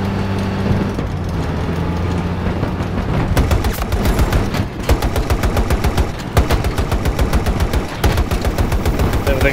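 Rapid bursts of automatic gunfire from the player's weapon in Battlefield 2042 on the hardcore Arica Harbor map, loud and close, starting amid battle noise and turning into dense, steady repeated shots through the second half.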